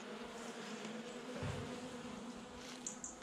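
Honeybees buzzing at an opened hive during a November inspection, a steady dense hum of many insects close by with a couple of brief sharper buzzes, no talking.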